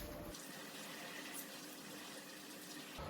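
Water pours steadily into a mushroom-growing bucket of grain spawn medium, a close, continuous rushing gush that holds for the whole stretch.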